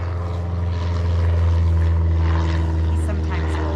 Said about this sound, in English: Here's my neighbor flying in on his plane.